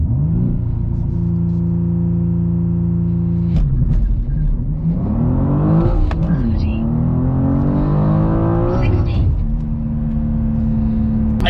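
A BMW M2 G87 with manual transmission accelerating hard on a 0-60 mph launch, a loud close cabin engine roar rising in pitch, a brief drop at a gear change, then climbing again, with a voice speaking over it.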